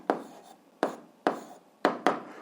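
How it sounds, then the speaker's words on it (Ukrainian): Pen or pencil writing an algebra answer on paper: five short scratchy strokes, the last two close together, fairly near and alone with no talk. "Пишемо відповідь."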